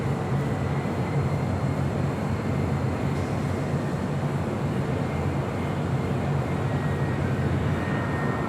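An airliner arriving from Frankfurt on short final for runway 24 left at Los Angeles airport gives a steady, loud broadband engine roar with a low rumble, continuous and unchanging throughout.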